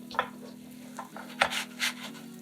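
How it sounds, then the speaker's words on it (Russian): Cheese-topped lavash flatbread lifted off a frying pan, with soft sizzling and a few scraping, rubbing touches of the spatula against the pan, quiet and close. "И сразу же снимаем со сковороды."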